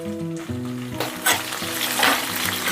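Dried red chillies, green chillies and curry leaves frying in hot oil for mango pulihora, a loud crackling sizzle that flares in bursts alongside a low steady hum.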